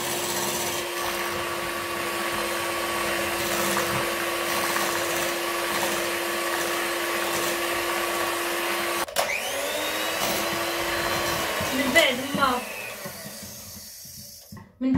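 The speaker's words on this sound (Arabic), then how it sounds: "نطربوها اسرع ما يمكن، يعني من احسن الطراب الكهربائي" An electric mixer whisks chocolate mousse with a loud, continuous motor whine that holds steady, then wavers and slows near the end as the beaters shift in the bowl.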